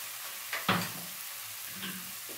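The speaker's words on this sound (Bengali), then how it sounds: "আমি এটা এখন নাড়তে থাকবো এইভাবে" Amla paste for gooseberry jelly is stirred in a pan, with a sharp scrape of the spoon, soft sizzling, and a couple more scraping strokes close by, no voices.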